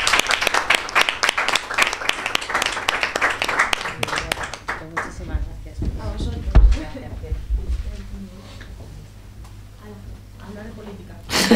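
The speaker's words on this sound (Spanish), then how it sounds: "Yo creo que se merece un aplauso, ¿no?" Applause at a Spanish local party press conference in Leganés, a burst of close clapping from the room lasting a few seconds, then fading into quieter murmuring and talk.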